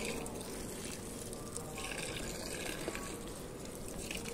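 Water fills from a tap in a household setting, a steady close rushing hiss that runs continuously without pause.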